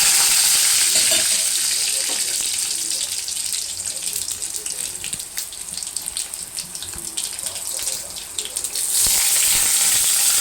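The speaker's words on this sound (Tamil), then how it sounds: "எண்ணெய் போட்டு கடுக போட்டுக்கோங்க காஞ்ச மிளகாய் பூண்டு தட்டி போட்டுக்கோங்க" Mustard seeds, dried chilli and crushed garlic frying in hot oil for a greens stir-fry, giving a loud, continuous close sizzle and crackle with a brief stirring clatter, no voices.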